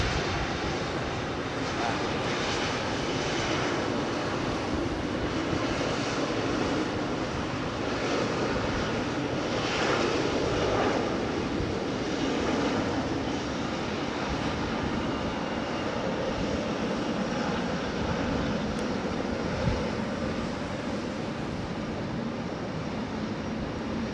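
An Airbus A380 arriving on runway 27R at London Heathrow produces a long, steady roar of jet engines at a distance, broad and sustained with slight swells, while people talk intermittently over it.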